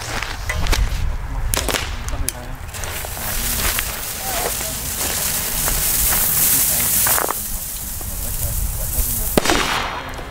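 Small Pyrotrade Vipper firecrackers set off outdoors, giving several sharp, loud cracking bangs over a rough, noisy background.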